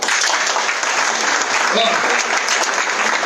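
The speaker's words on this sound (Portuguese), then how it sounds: "Posso ouvir uma salva de palmas do Senhor?" A church congregation at a Wednesday healing and deliverance service claps hard and steadily in dense, continuous applause that fills the whole stretch, with voices mixed in beneath it.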